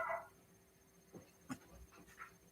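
Cavalier puppies whimper faintly in a few brief, soft cries, low in level with quiet background and no talk.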